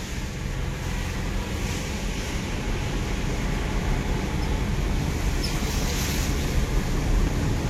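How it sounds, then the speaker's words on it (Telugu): Heavy rain pounds a transport truck's cab in a dense, steady roar that runs unbroken and loud throughout, with no voices. "అయ్యి బాబు వర్షం చెత్త కొడేస్తుందండి"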